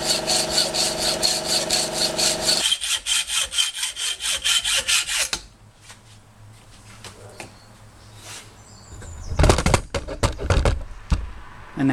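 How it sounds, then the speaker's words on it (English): Rhythmic rasping strokes of a handsaw cutting wood during a car restoration, loud and close for several seconds, then a quiet pause before a few knocks and rustles. "I think I'm better off with a handsaw."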